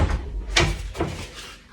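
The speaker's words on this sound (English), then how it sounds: "I'm going to take it out of the door so you can see how it works." A stretching hammock device being pulled off a door gives two sharp knocks and rattles, fairly close, with a softer shuffle between and after them.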